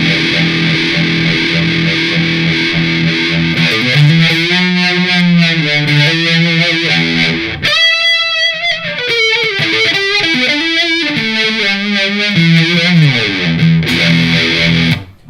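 Electric guitar played through a phaser placed ahead of a fuzz pedal on a pedalboard, giving a loud, sustained distorted tone with an uneven, swirling pulse that ebbs and swells throughout, with a brief dip in the middle before returning.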